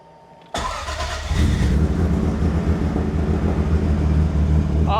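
A 1000+ hp Toyota Supra, parked and raised on a jack, cranks briefly and then fires up into a loud, steady, rumbling idle that continues close by without any talk.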